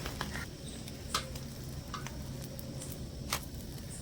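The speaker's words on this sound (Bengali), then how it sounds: "এভাবে করে একটু প্রেস করে করে পরোটাগুলো দুটো দিকে আবারও খুব সুন্দরভাবে ভেজে নিতে হবে" Egg paratha frying on both sides in a pan while pressed lightly, giving a steady close sizzle with occasional soft clicks and taps, no voices.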